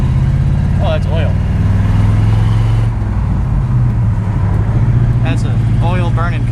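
A Chevy K1500 pickup's engine drones low and steady while driving, with a passing vehicle, music and people talking over it.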